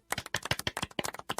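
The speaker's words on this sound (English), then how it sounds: "Golf clap." Light, sparse hand clapping from a single person, about nine quick close claps in an uneven rhythm with no voices over it.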